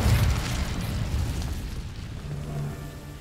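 In the video game Hogwarts Legacy, an Incendio fire spell goes off as a loud, close, rumbling burst of flame and explosion that slowly fades over a few seconds, with no speech.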